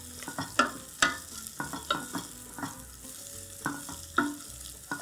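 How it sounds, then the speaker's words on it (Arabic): Soaked, uncooked chickpeas sauté with onion in a pan, giving a soft, quiet sizzle broken by repeated scraping and clinking strokes of a spoon as they are stirred. "ننزل بقى عليه كده بحمص الطبيخ نديله تشويحه"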